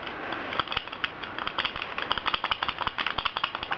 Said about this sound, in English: You might be able to hear me fumbling about with the screws because they are pretty hard to put in